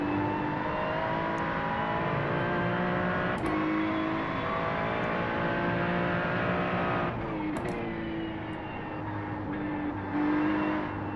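Ferrari race car in iRacing at Oulton Park, engine droning steadily at high revs with rising and falling pitch through gear changes, a couple of sharp shifts, no talk.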